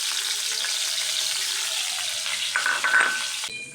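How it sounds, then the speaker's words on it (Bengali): Chopped onion and green chili fry in hot oil as the base for a shrimp and radish curry, giving a steady close sizzle with soft stirring scrapes. Near the end a brief higher clink sounds before the sizzle drops back. "আমি পেঁয়াজ আর কাঁচামরিচ কুচি দিয়ে দিব।"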